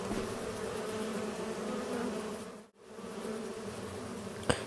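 Bees buzzing around beehives in an apiary in Farming Simulator 25: a steady, dense insect drone fills the scene with a brief dip near the middle and a short click near the end.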